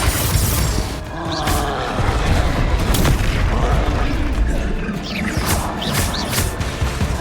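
In the Hogwarts Legacy video game, a Confringo blasting curse goes off amid a noisy spell fight, with deep booming blasts, crashes and whooshing effects layered densely over several seconds.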